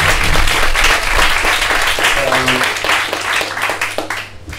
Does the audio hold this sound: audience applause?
yes